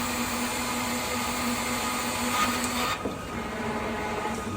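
A power tool whirs steadily while torquing down the wheel nuts on a Scania R770 truck, a continuous close mechanical drone that shifts pitch briefly near the end.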